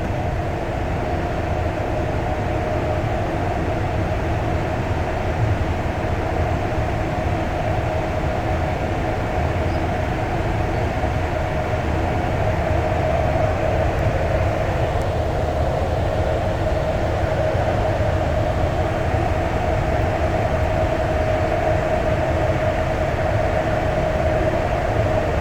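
Loud, continuous rumble and rattle of a REM light-rail train rolling over rough track at night between Brossard and Central Station in Montreal, with a steady droning hum and no pauses throughout.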